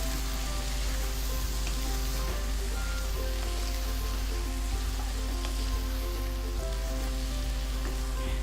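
Fenugreek-laced masala for Lahori murgh chanay fries in a pan with a steady, close sizzle and crackle, continuous and even throughout with no voices.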